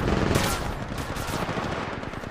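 Rapid automatic gunfire crackles through a match of the mobile battle royale game Apex Legends Mobile, dense overlapping shots and bursts continuing loudly throughout with no pauses.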